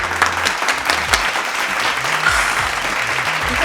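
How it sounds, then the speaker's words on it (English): A television studio audience gives a sustained round of applause for Cheryl Underwood, dense steady clapping filling the room, loud and close with no voices over it. "Cheryl Underwood, we want to give you a round of applause."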